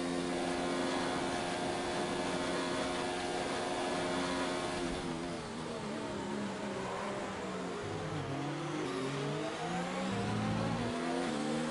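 A Formula 1 race car engine screams loudly in a racing video game, holding a high whine and then shifting through rising gear changes, with no talking.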